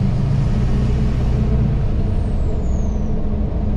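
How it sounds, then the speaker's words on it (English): Diesel truck with a 5-inch straight pipe exhaust idling with a loud, steady low rumble and a faint high turbo whine sweeping downward near the end, close and without talk. "Way louder turbo, which I thought 5-inch was supposed to make like the rumble louder, not the turbo"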